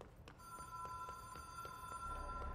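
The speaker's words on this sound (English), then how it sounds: "Ooh, we're getting a phone call." A phone call rings inside the game Control, a steady tonal ringing with faint repeated pulses, fairly quiet and alone under a low background hum.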